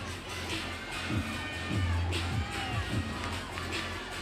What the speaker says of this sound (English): Teammates cheering her on the sidelines.